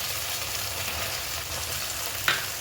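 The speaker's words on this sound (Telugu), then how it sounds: "తర్వాత కొంచెం అల్లం వెల్లుల్లి పేస్ట్ వేసి ఫ్రై చేసుకోవాలి." Onions frying with ginger-garlic paste in a pan for street-style gobi manchurian, a steady dense sizzle held close and even throughout, with one brief clink near the end.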